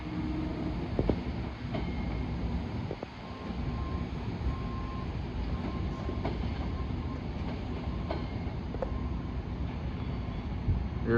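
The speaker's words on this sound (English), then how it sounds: "I think I hear another train coming." A train runs past a parking garage in White Plains, NY, as a steady, fairly loud rumble with faint clicks of wheels on track and a metallic tone throughout, no talking heard.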